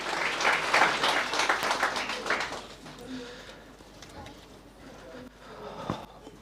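Audience at a township business pitch workshop in Hammanskraal claps loudly for a couple of seconds, then the applause thins into scattered claps, light crowd murmur and footsteps.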